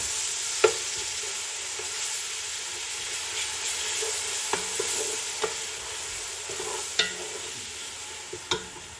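Ginger garlic paste sizzles in a pan with browned onions for chicken biryani, a soft steady frying hiss broken by occasional sharp clicks of a spoon stirring against the pan, with no talking.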